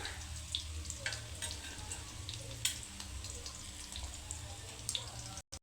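Fish frying in oil on both sides, a quiet steady sizzle with a low hum beneath and occasional sharper crackles and spatters, cutting off abruptly near the end.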